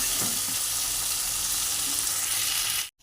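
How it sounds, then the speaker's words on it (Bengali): Boiled potatoes tossed into a hot pan for a Bengali gathi kochu and prawn dish, giving a loud, steady close-up sizzle with light stirring, then cutting off abruptly near the end. "একটু আলুটা নাড়িয়ে নিলাম।"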